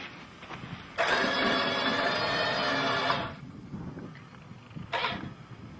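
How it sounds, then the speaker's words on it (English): A winch hauls in a rope, whirring steadily with a mechanical tone for about two seconds and then stopping, followed later by one short pull, against a quiet outdoor background. "why don't you go ahead and winch it in"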